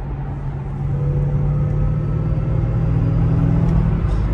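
A supercharged Ford Mustang engine idles with a deep, steady rumble that swells slightly in loudness, close by and alone with no voices.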